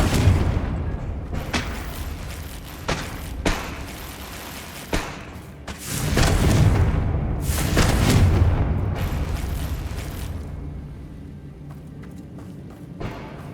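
Confringo explosion spells in Hogwarts Legacy combat: repeated heavy booming blasts with rumbling tails, several sharp hits and two longer swelling explosions, loud and close over a continuous low battle drone.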